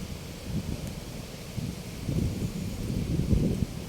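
Wind gusting through a park by a river, a low rumbling buffet on the microphone with faint rustling, swelling stronger toward the end with no voices over it.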